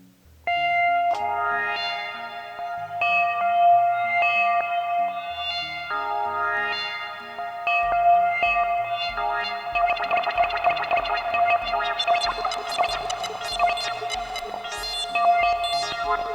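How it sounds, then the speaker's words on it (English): Modular Eurorack synth tones stutter and repeat in glitchy bursts modulated by LFOs, growing denser with fast rhythmic chopped blips and ringing echoes toward the end; no talking. "Some really cool glitchy effects. This is what I love to do for sound design."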